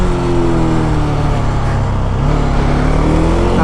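A Bajaj Dominar 400 motorcycle at full throttle on a highway run, its engine holding a loud, steady, close drone with a slight shift in pitch partway through.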